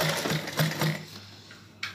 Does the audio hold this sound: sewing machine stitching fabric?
yes